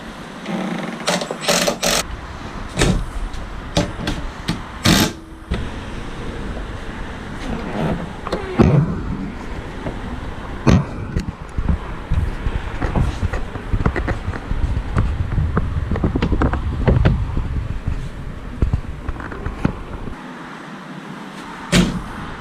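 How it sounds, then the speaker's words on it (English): Bolts being done up on a Land Rover Defender spare wheel carrier, a busy run of close metallic clicks, ratcheting and knocks, irregular and steady over time, with no talking. "We start doing up all of the bolts."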